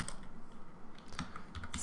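Computer keyboard typing in a quiet room, a few quick clustered keystrokes toward the end over a faint low hum, no speech.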